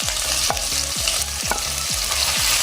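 Crushed ginger fries in a pan with a loud, continuous sizzle, while a spoon or spatula knocks the pan in a regular rhythm about twice per second.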